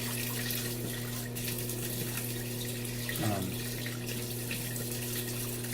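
A tap runs steadily into a sink while shaving lather is rinsed off, a constant close rush of water under a low electrical hum, with a brief splash near the end.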